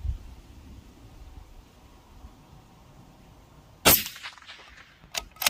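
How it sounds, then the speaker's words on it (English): A single sharp, loud rifle shot fired at a target through a Pulsar Talion XQ38 thermal scope setup, bursting out of near-quiet surroundings, followed by a few fainter clanks or echoes. "So, two shots at the target above"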